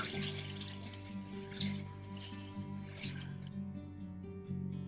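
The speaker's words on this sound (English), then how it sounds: "I'll go ahead and water them and give it a good mix." Water is poured onto compost in a balcony vegetable garden in winter, a quiet steady trickle and splash heard over a low background hum.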